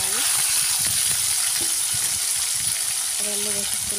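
Brinjal pieces frying in a pan with chilli powder, turmeric, salt and pounded coconut-garlic powder, giving a dense, close sizzle with a few stirring knocks, steady and loud for the whole few seconds.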